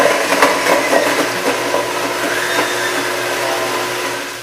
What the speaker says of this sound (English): now we're just gonna whir it up in the blend tech